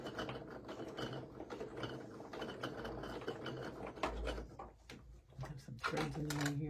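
Sewing machine stitching a Cathedral Windows quilt, a fast steady mechanical clatter running nearly throughout, with short pauses and speed changes near the end; no talking.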